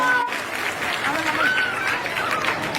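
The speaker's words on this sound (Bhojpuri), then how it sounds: "एक बार और जोरदार ताली बजा दीजिए" An audience at a Bhojpuri stage show in Arrah claps, a broad, steady patter of applause from a crowd, heard under a voice over a loudspeaker.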